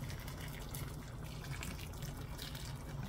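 Hot water is poured into a pot of spicy curry chicken seasoned with wiri pepper, a continuous close rushing splash with no pause.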